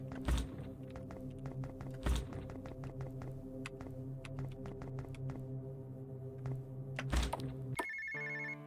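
A cell phone rings in a video game, a bright electronic trill that starts near the end over looping game music, with occasional thuds and taps earlier.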